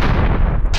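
A single loud, booming cannon blast from the video game Dark Omen fills the whole moment, dense and rumbling with no pause or talk around it.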